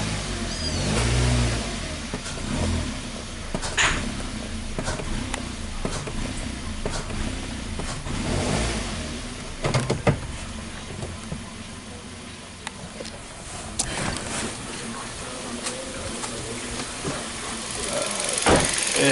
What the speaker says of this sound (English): Let's brake torque this.